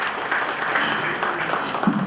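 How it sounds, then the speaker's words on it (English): An audience at a national MSME conclave applauds the organizers with a dense, steady wash of clapping that holds at an even level throughout, with no speech over it. "A big round of applause for all the organizers"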